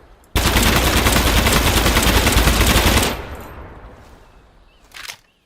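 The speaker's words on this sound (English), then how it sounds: "I think we're currently on full auto." An AKM rifle fires on full auto in the Gunsmith Simulator game: one loud, unbroken burst of rapid shots lasting nearly three seconds, then a fading echo and a brief mechanical clack.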